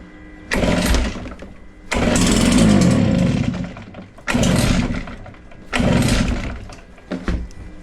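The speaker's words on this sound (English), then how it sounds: "this is a cold start. I haven't started this blower in a while." A leaf blower's small two-stroke engine is pulled on a cold start, making four separate bursts of sputtering and revving that each die away after a second or two, close by.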